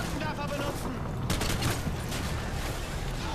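Rapid gunfire from a weapon in Call of Duty: Modern Warfare 2, a dense, steady burst of shots with a louder blast partway through, under a busy battlefield din and voices.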